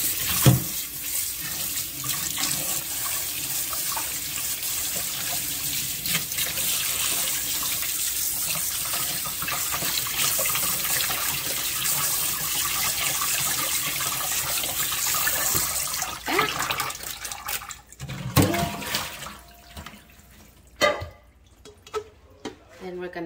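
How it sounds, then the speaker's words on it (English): Cold tap water runs hard into a sink while pig's ears are rinsed for pickling. The steady gush carries on for about sixteen seconds, then breaks into splashes and handling noises as the flow stops. "I'm just gonna rinse it in cold water."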